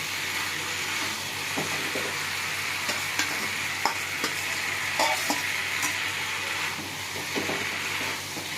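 Fish head frying in a pan with Malabar spinach and spices, a steady close sizzle broken by scattered scrapes and knocks of stirring, with no talk.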